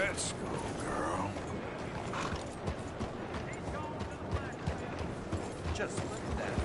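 Horse hooves clip-clop steadily in Red Dead Redemption 2, the regular footfalls sitting in the foreground amid game ambience and a dense wash of background noise, with talk over the top.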